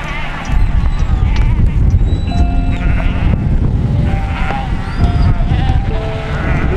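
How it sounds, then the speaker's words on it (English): A large flock of sheep on a New Zealand hiking trail bleats continuously, many overlapping calls near and far over a steady rumble of moving animals and hooves. "There were thousands of sheep, and they just kept coming and coming and coming."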